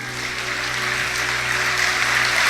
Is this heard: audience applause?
yes